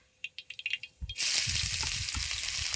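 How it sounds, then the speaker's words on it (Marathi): Onion dropped into hot oil in a home kitchen: a few light clatters, then a sudden loud, steady hiss and crackle of frying, close up with no voices. "आता हे कांदा याच्यात टाकतो भाजी तेलात"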